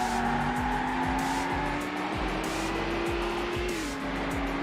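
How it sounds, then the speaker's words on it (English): A Ferrari engine drones steadily close behind in Need for Speed Hot Pursuit 2, its pitch holding then dropping slightly, with repeated low thumps and bursts of tire noise throughout, loud and continuous. "There's that Ferrari right up behind us."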